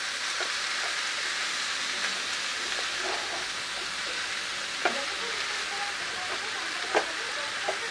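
Banana flower fries in a wok with a steady, close sizzle throughout, joined by a few soft scraping stirs and occasional sharp clicks of the utensil, with no voices.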